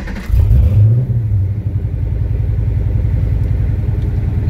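A Ford Mustang track car fitted with a roll cage fires up with a deep surge and loud rev, then settles into a steady, throbbing idle close by, with no talk.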